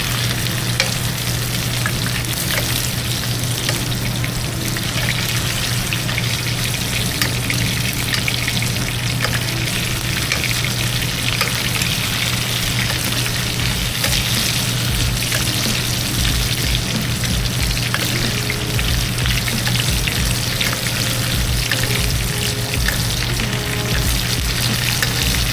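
Sous vide steak seared in a hot pan while being basted, a loud, dense, unbroken sizzle heard up close, with faint spattering and occasional soft scraping over its whole length.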